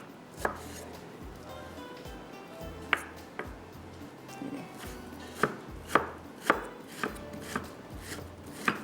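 A knife slices food for date chutney on a cutting board, a series of sharp, close chops spaced irregularly over a faint background hum, about a dozen distinct strikes with no speech.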